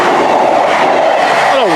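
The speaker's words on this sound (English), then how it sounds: "Here comes the 1400 Transport for Wales service to Holyhead." Transport for Wales class 158 diesel unit on a service to Holyhead rumbles past nearby, loud and steady, with a rising whine near the end.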